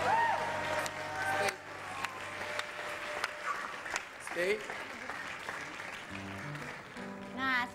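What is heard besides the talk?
applause for a golden retriever dog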